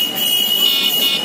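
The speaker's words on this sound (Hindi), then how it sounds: "इसमें 2 हॉर्न है, एक तो ये हॉर्न है" Horn of a Yulu electric bike sounds as one steady, shrill electronic buzzing tone held for over a second, close and fairly loud over faint street background.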